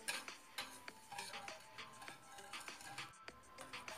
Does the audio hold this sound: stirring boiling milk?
yes